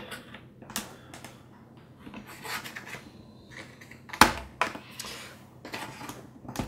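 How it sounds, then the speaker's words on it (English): Plastic pry tool scraping and clicking around the edge of a Dell XPS 15 Touch (9530) laptop chassis, a series of close, short rasping scrapes and sharp snaps with brief pauses between them. "then we just need to with the pry tool work around the edge of the chassis"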